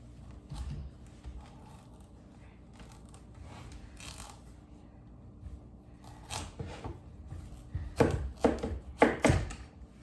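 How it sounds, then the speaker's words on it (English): A knife cuts a squash down the middle on a board with a run of crunchy, uneven chopping strokes that grow louder and sharper toward the end, close by with no talking. "I'm just gonna cut it right down the middle"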